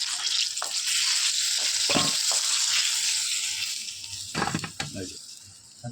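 Cornflour-coated chicken momos pan fry in hot oil, a steady bright sizzle with intermittent scraping and clattering as they are stirred and turned, close and fairly loud.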